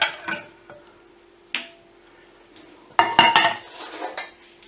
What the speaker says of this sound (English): what I'm going to do is strain it, this could get messy, through a small colander onto a pan, over a pan